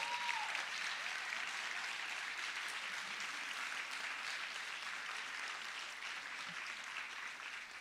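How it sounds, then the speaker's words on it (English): Sustained applause from an audience at a city's State of the City event, heard as a distant, even wash of clapping that fades slightly toward the end. "Give these folks a round of applause."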